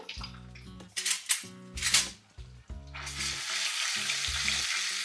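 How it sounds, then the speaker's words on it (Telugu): Cinnamon, cloves, cardamom and ginger garlic paste frying in oil for a masala broad bean curry, with intermittent spoon clinks against the pan, then a loud continuous sizzle swelling as the paste goes in, close up. "వేగిన తర్వాత ఇందులో కాస్త జింజర్ గార్లిక్ పేస్ట్"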